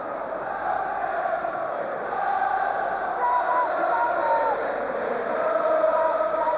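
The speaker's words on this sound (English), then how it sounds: "So this Ibrox crowd and full cry again, enjoying their carnival afternoon" Football supporters at Ibrox during a Rangers versus Hibs league match roar in full cry, a dense, sustained wall of crowd noise with rising chants and whoops that holds steady and loud throughout.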